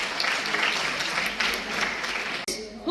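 An audience applauds student performers at a school cultural event, dense clapping with a few sharper claps, then cutting off abruptly near the end.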